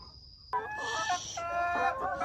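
Chickens on a poultry farm with around seventy hens, a close hen breaking into loud, tonal clucks and squawks over quiet barn ambience, with a brief high whine before the calls.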